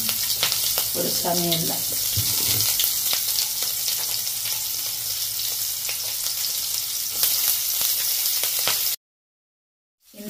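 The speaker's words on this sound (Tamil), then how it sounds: "அதே வந்து பேன்ல தான் பீட்ரூட் வறுக்க போறேன். எண்ணெய் சூடாயிடுச்சு." Beetroot fries in hot oil in a pan with a loud, steady sizzle, as someone speaks briefly near the start, before the sound cuts off abruptly.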